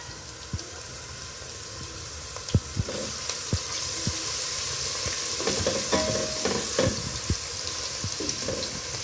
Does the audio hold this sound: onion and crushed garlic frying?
yes